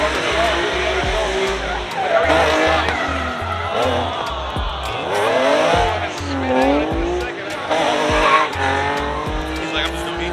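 Drift cars at Orlando Speedworld scream through repeated long tire squeals and skids over loud engine revving. Several slides follow one another, with a commentator talking over the action.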